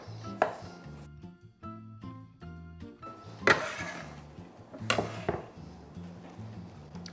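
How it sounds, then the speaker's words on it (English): Flat-leaf parsley freshly harvested from a garden is roughly chopped with a knife on a board, giving clusters of close, crisp chops separated by pauses, with some background hum and no talk. "This is flat-leaved parsley that we just harvested from the garden. I'm going to just roughly chop these."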